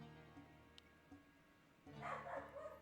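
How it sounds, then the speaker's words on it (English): A single dog barks at a distance over a faint background of other sounds. "And there goes a dog bark."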